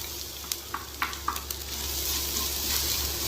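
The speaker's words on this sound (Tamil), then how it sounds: "இப்போ இது எல்லாத்தையும் நல்லா வதக்கிட்டு ஸ்டவ்வை ஆஃப் பண்ணிடலாம்." Coconut, curry leaves and dried chillies sizzle and fry steadily in a pan for a spicy kolukattai filling, with a few sharp stirring clicks early on over a constant close crackle.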